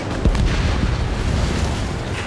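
Missile launch from a fighter jet in the combat flight game Ace Combat 7, a heavy booming whoosh that bursts in early and rolls on as a loud, sustained roar under dense engine noise.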